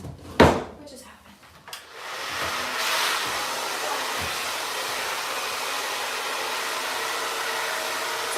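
A hair dryer fitted with a diffuser starts up after a few handling knocks and then runs with a steady, close whooshing hum while being hovered over wavy hair.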